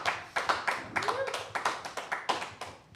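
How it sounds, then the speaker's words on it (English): Live audience clapping at Daytona 500 Media Day as a NASCAR driver is introduced, a steady run of sharp claps close by with a brief voice rising partway through. "You used to getting applauded everywhere you go, right?"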